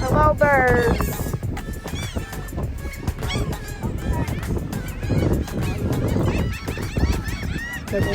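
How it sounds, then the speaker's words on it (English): Seagulls at a Corpus Christi waterfront, a flock calling loudly and continuously with overlapping squawks and cries close by, mixed with outdoor background bustle. "There is a lot of birds, a lot of seagulls here"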